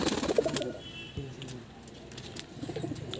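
A female high-flying Kalsari pigeon gives soft, close coos in short bursts, with some rustling and faint other birds around it and no clear talk.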